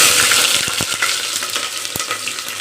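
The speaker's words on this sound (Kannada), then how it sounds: "ಈರುಳ್ಳಿ ಸ್ವಲ್ಪ ಫ್ರೈ ಮಾಡ್ಕೊಳ್ಳೋಣ" Onions frying in hot oil give a loud, steady, close sizzle that fades slightly over time, with scattered stirring clicks and scrapes from a utensil and no talking.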